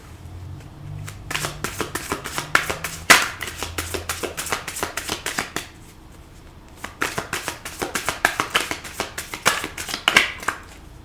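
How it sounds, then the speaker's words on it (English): Tarot cards are dealt and laid out one by one on a table, giving a close run of soft, quick slaps and flicks in two bursts separated by a brief pause. "I'll put all the cards on the table."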